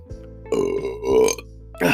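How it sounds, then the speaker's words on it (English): A loud, drawn-out burp rolls on for over a second in a podcast setting, breaking into a second swell before a voice starts talking right after. "I just had to burp."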